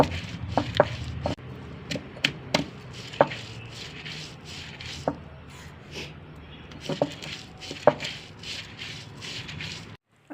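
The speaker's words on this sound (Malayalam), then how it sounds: "ഇത് നമ്മുടെ അമ്മിക്കല്ലിൽ തന്നെ ഒതുക്കിയെടുക്കണം കേട്ടോ" Coconut, chillies and shallots being crushed on an ammi grinding stone, with repeated uneven knocks and grinding scrapes of stone on stone, close and moderately loud, pausing briefly now and then.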